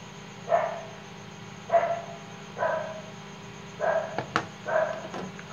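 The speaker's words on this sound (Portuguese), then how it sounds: "Cachorro da vizinha está um pouco alterado" A dog barks five times at a steady, spaced-out pace, somewhat distant, with a faint electrical hum underneath from an Electrolux microwave under repair.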